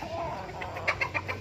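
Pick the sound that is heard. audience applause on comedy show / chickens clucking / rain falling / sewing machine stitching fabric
chickens clucking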